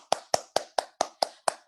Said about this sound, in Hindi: जोर तालियों के साथ स्वागत कीजिए मिस वर्षा गुप्ता और मिस